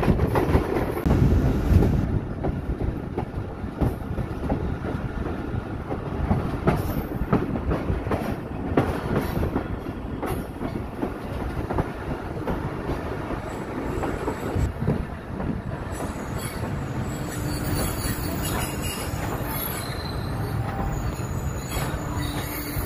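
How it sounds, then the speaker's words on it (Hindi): The Kohat Express, a local passenger train, runs fast on its rails with a steady loud roar, rattling wheels and squealing metal, heard continuously from on board with no talking. "ट्रेन बहुत ज़्यादा फास्ट है यार, मैंने सोचा भी नहीं था कि इतनी तेज़ होगी ये ट्रेन"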